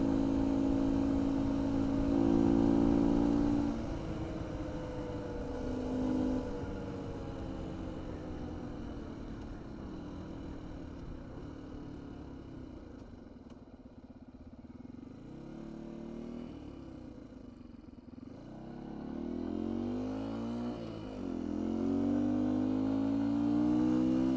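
A 2019 Beta 125 RR-S dirt bike fitted with a 150cc Yamaha big-bore kit climbs a hill, its engine loud and close, revving up and dropping back through upshifts, with pitch sweeps rising and falling across the ride.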